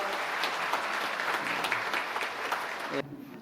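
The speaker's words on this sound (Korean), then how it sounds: "박수 한 번 더 해주세요" Church congregation applauding during an appointment ceremony for new deaconesses, a dense, steady wash of many hands clapping that cuts off abruptly near the end.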